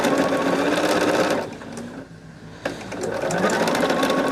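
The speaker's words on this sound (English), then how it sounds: "I'm just sewing these two together to make our squares here" A sewing machine stitches fabric squares together for a quilt, a fast loud whirring run that pauses briefly and then resumes at full speed.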